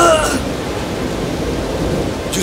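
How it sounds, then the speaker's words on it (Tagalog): Storm wind roars steadily over the sea around a ship amid huge waves, a dense, unbroken rushing wash with a faint tonal trace at the start. "lalong lumakas ang ihip ng hangin at lalo pang tumaas ang level ng tubig"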